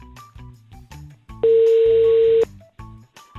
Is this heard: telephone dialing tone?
yes